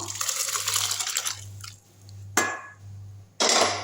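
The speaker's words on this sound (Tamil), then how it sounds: "இந்த ஊற வச்ச பருப்பு இருக்குறீங்களா இந்த குக்கரில் இதை எடுத்து ஊற்றிடலாம்" Wet, sloshing pour of soaked lentils into a metal pressure cooker, followed by two short splashing bursts, over a steady low hum.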